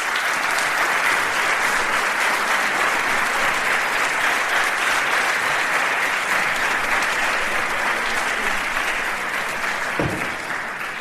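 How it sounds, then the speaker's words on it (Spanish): Sustained, loud audience applause fills the room, with dense overlapping clapping continuing steadily throughout, welcoming a translator at a live event. "les voy a pedir también que den un aplauso a quien nos va a ayudar en la conversación con él"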